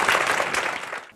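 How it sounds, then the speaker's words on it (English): A round of applause for volunteers at an EFT trauma and PTSD talk, a short burst of audience clapping that starts full and tapers off within about a second. "Could we have a round of applause for our volunteers?"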